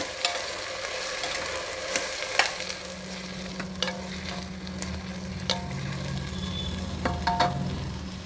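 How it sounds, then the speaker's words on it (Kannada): Vegetables fry in a spiced tempering in a pan for a traditional pulao, a steady close sizzle broken by sharp scrapes and clinks of stirring, with a low hum in the background and no talk. "ತರಕಾರಿಗಳನ್ನೆಲ್ಲ ಸ್ವಲ್ಪ ಹುರಿದಾಯಿತು. ಒಂದು 2 ನಿಮಿಷ ಹುರಿದಿದ್ದೀನಿ ಒಗ್ಗರಣೆನಲ್ಲಿ."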